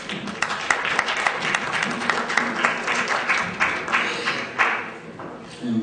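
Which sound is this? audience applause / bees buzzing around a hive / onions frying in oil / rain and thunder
audience applause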